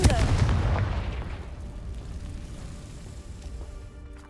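A Confringo fire spell explodes in the video game Hogwarts Legacy, a loud booming blast that hits at once and then fades into a long, rumbling decay over about four seconds.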